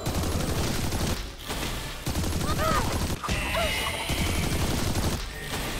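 Turret gunfire in the game RWBY: Grimm Eclipse rattles in dense, continuous automatic bursts, loud and close, broken by brief pauses, with scattered creature cries and other effects mixed in.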